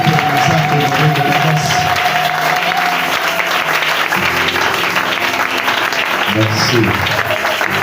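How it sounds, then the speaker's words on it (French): An evangelical convention congregation applauding and cheering for the Lord, sustained loud clapping filling the hall for several seconds, with a voice speaking briefly over the applause. "Est-ce que tu peux m'aider à acclamer pour le Seigneur?"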